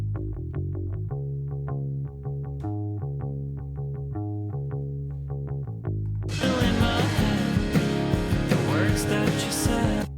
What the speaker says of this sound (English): So the bass guitar sounds like this.